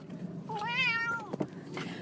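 A cat gives a single clear, drawn-out meow close by, rising and falling in pitch, in an otherwise quiet room.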